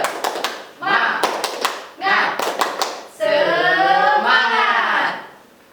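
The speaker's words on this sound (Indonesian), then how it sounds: "1, 2, 3, tepuk semangat." Standing classroom of schoolchildren doing a rhythmic group clapping ice-breaker during an elementary teacher-training lesson, sharp claps in patterned bursts with counting and chant-like voices between and over them, fairly close and loud.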